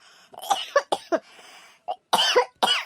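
A person with a cold coughs several times in short, harsh bursts, a few close single coughs followed by a louder cluster, with quiet gaps between them.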